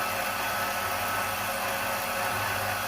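A Holzman BS128 HDR band saw cuts at minimum speed and minimum feed, giving a steady, even whir with a dense hiss and a low hum underneath, continuous and unbroken.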